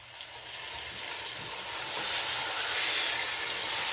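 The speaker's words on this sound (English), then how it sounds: "you can hear that sizzling sound, okay? That sizzling sound is to tell you that this is ready." Steady broadband sizzling hiss, like food frying in a hot pan, growing slightly louder over a few seconds with no voices.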